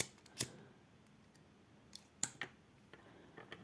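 Scissors snip thread while making shuttle lace, giving a few sharp, close clicks spaced apart against near silence, with softer small ticks afterward.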